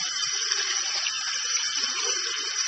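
A tap runs steadily into a sink while hands are wetted to the wrists for washing, a continuous close hiss of falling water with no talking.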